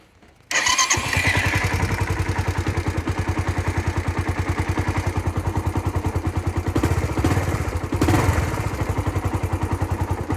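A Suzuki motorcycle engine with freshly adjusted valve timing starts with a sharp burst, then settles into a steady, loud idle with rapid, even pulsing that continues alone throughout.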